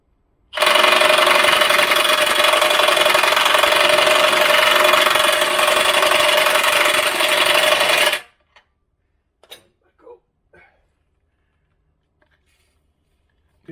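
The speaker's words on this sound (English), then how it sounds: "I'm going to turn the impact driver up to full and undo it again" A powerful impact driver set to full power hammers in reverse at a bolt on a Jaguar V8's exhaust pipe, one loud sustained rattling burst lasting about eight seconds, then near silence with a few faint clinks.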